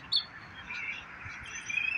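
A mockingbird calls outdoors, mimicking other birds with thin high chirps and whistled notes, fairly faint and distant over a soft background hiss.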